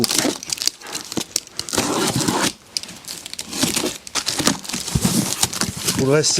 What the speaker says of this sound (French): on passe au déballage tout de suite